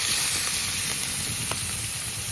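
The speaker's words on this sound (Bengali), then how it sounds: "এখন এর মধ্যে দিয়ে দেবো পেঁয়াজ কুচি" Chopped onion dropped into hot oil already fried with black cumin seeds gives a loud, close, continuous sizzling hiss that holds steady throughout.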